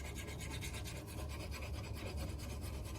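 Sandpaper rubbed by hand over a surface being prepped for primer, a faint steady rhythmic rasp of quick back-and-forth strokes.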